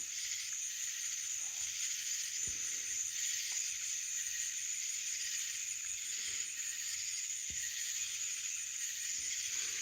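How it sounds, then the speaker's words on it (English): Dense, steady insect chirring fills the air, a continuous high buzzing of many crickets with no pauses, constant in level throughout. "There's just like acres and miles of these bugs."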